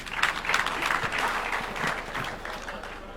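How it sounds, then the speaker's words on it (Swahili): Audience applauding the president at a formal event, a burst of clapping from a crowd that is fairly faint and distant, steady throughout and tapering slightly toward the end. "Tumpigie makofi Mheshimiwa Rais"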